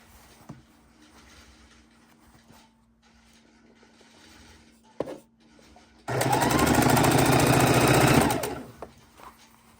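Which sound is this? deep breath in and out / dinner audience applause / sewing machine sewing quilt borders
sewing machine sewing quilt borders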